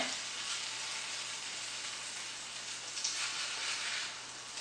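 French toast frying in a pan gives off a steady, even sizzle that holds for the whole stretch, with a slight swell of crackle partway through and no voices.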